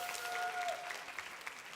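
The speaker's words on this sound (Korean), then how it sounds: "우리 다시 한번 우리 격려의 박수 부탁합니다" Faint, scattered applause from a church youth congregation after a special song by high-school teachers, distant and sparse, with a thin tonal whine at the start.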